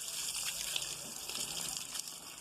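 Water spraying steadily from a hose onto a garden on a hot day, a continuous broadband hiss that stays loud and even throughout with no talking over it.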